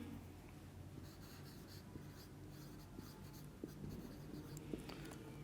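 Marker or chalk scratching steadily across a board during a chemistry lecture, a continuous scraping with small taps and strokes over a low room hum, no voices.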